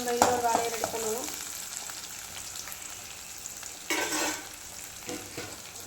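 Plantain slices sizzle in hot oil in a home kitchen pan, a soft steady frying hiss with a few scraping stirs and clinks near the start and a louder burst of sizzling partway through.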